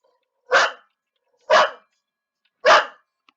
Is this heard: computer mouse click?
no